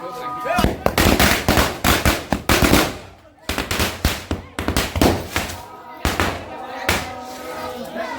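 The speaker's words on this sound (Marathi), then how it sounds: "साईडला आमची पोरं फटाके लावत आहेत" Firecrackers go off at a Tulsi Vivah celebration in Ratnagiri, loud, rapid strings of cracks and pops nearby, with brief pauses between volleys and voices faintly underneath.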